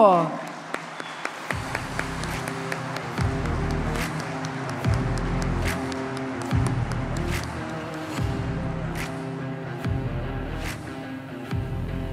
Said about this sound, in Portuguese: Vamos receber com uma calorosa salva de palmas Gustavo Franco